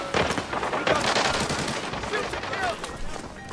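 Rapid bursts of automatic gunfire crackle through a battle in a first-person shooter game, dense and continuous for a few seconds with faint voices beneath.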